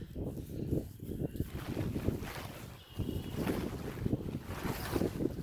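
Strong wind buffets the microphone in continuous rough gusts, a dense low roar with no clear pauses.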